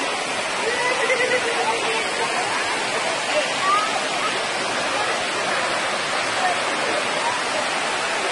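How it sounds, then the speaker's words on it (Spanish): Cascada de Xilitla waterfall in the Huasteca Potosina, San Luis Potosí, Mexico, a steady broad hiss of falling water, constant and even with no breaks. "Cascada de Gilitla, Huasteca Potosina, San Luis Potosí, México."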